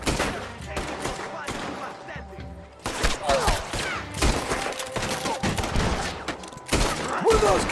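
Bursts of rapid gunfire crack through a Western firefight in Red Dead Redemption 2, loud clustered volleys separated by short gaps, with faint voices and groans in the mix.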